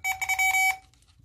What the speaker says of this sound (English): shut this beeping off.